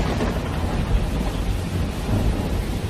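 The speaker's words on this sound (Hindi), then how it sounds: "अचानक मूसलाधार बारिश शुरू हो गई" Heavy downpour with thunder in a Hindi horror story, a steady broadband roar of pouring rain with deep rumbling swells of thunder, loud and continuous with no voices.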